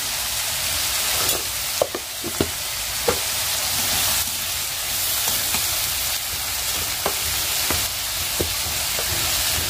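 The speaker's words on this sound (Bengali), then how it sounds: "তো যে চুলাতে সিম ভাজি দিয়েছি" Shim (flat bean) bhaji frying on a stove gives a steady, loud broadband sizzle throughout, broken by a few sharp clicks and taps of a utensil against the pan.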